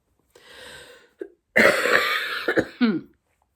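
A person coughs harshly several times, a short cough followed by a longer fit of hacking coughs, close and loud.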